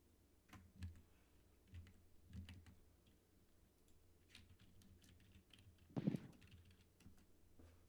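Soft typing on a computer keyboard, scattered keystrokes and clicks at an uneven pace with a louder cluster of taps near the end, quiet and close.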